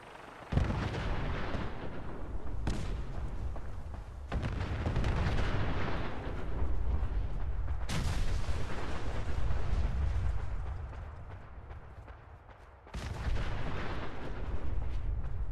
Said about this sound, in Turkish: Ben bu helikopterleri ne zaman görsem düşüyor.